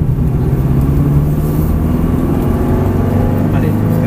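Ferrari 360 Modena F1 on a race track, engine droning loud and steady with a low mid-range growl for about four seconds while a man coaches in French over it.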